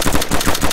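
Rapid gunfire from an M4 rifle in a multiplayer shooter game, a dense burst of loud, repeated cracks filling the whole short moment with no talk.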